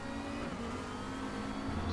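Race car engine in a racing video game, a steady mid-pitched drone holding close and loud through the whole stretch as a rival car runs alongside on the left, with no talk over it.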